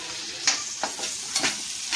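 Nendran banana pieces frying in hot ghee in a pan, a constant close sizzle with a few distinct scraping strokes of a spoon as they are stirred.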